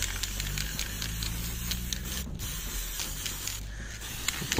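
Spray paint hisses from an aerosol can onto an old washing machine casing, a close, steady spray broken by two brief pauses between bursts.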